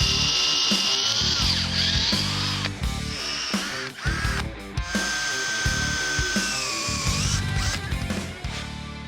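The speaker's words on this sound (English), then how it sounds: "Then we can start drilling out the holes." A power drill whines and grinds through a metal bracket in repeated bursts, pitch rising and falling as it bites, loud and close with brief pauses.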